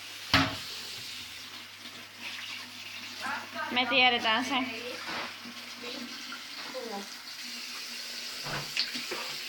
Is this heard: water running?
yes